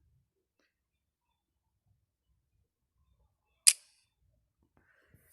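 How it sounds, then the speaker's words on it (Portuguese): A single crisp camera shutter click in the Toontastic 3D app, sharp and isolated in near silence. "Então, eu vou apertar aqui na câmera e vou centralizar aqui certinho."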